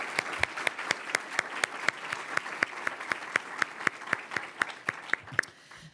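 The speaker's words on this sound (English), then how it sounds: "let's give everyone here tonight a huge round of applause to get things started" Round of applause from an audience at an awards evening for children's champions, a steady run of sharp, evenly spaced claps, fairly distinct and close, thinning out toward the end, with no talk over it.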